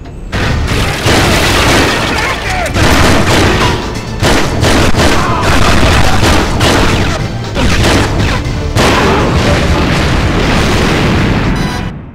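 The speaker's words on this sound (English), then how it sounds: "Fireworks." Loud bursts of explosions and crashing booms from fireworks in a 007 James Bond GameCube video game come in quick succession, cut by brief gaps, like a barrage of fireworks.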